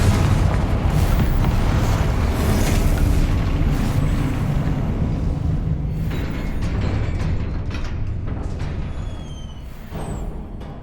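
Confringo spell blasts in the Hogwarts Legacy video game, a loud sustained rumbling explosion with bursts and crackle that slowly decays over several seconds, no talking.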